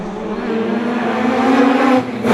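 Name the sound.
Mazda RX-7 rotary race car lapping the track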